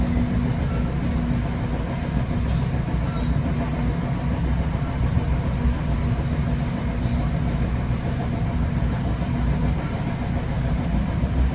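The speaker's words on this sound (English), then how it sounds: "Work train there. Trainload of concrete ties." A work train hauling a load of concrete ties rolls past on an NJ Transit line, a steady, loud, unbroken rumble of wheels and engine filling the whole stretch with no pauses.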